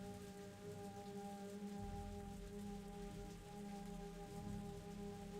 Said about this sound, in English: Torrential rain didn't seem to want to stop.